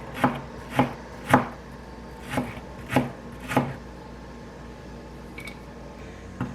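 Knife chopping through a block of cheese on a cutting board, six distinct crisp chops in a steady rhythm over the first few seconds, close and clear, then a quieter pause with a faint click near the end.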